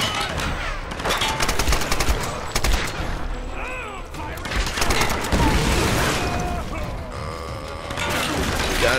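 Gunfire in a Tomb Raider game, dense bursts of rapid shots and crashing impacts through most of the stretch with a lull midway, under a player's loud commentary.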